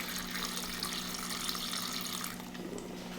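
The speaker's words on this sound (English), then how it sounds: "I'm going to put a little bit of water behind it too" Water poured steadily into a tarantula enclosure makes a continuous close trickling splash that fades slightly near the end, with no talking.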